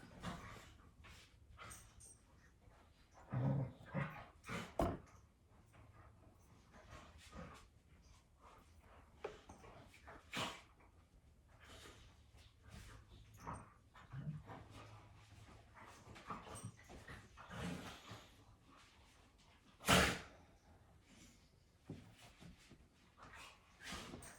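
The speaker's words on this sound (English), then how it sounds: "my dogs think that it's playtime" Pet dogs in a home where someone is sewing a fabric mask, with scattered yips, whimpers and a few louder barks in short bursts at a moderate distance, over quiet household background.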